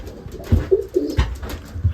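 Racing pigeons coo in a loft in a few soft, low, throaty calls spaced through the moment, close and alone without talk.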